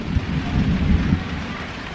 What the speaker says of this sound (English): It's coming down now. Don't know if you can hear that thunder